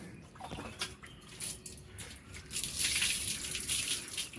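Water from a hose splashing while a dog is bathed outdoors, a steady rushing spray that rises and grows louder in the second half, with scattered small splashes.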